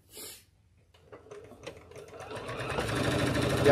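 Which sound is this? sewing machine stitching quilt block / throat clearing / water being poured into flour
sewing machine stitching quilt block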